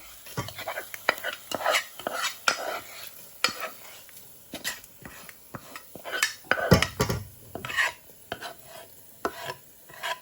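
Golden fried tempering is mixed into Jaffna-style Sri Lankan dosa batter with a spoon, giving close, repeated irregular scraping and sloshing strokes against the bowl with brief pauses between them.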